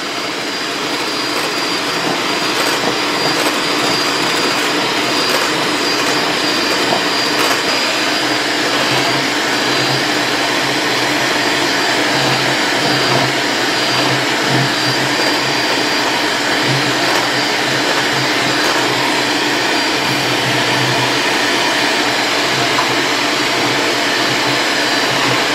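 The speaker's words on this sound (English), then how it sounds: "Now we're going to slowly add our sugar and running our mixer on medium speed." An electric stand or hand mixer beats Great Depression-era wind cake batter on medium speed, a loud, steady motorized whir that runs unbroken the whole time with no voices.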